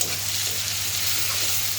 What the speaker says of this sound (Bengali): এখন আমার মশলাটা একটু ভালো করে কষিয়ে নিতে হবে।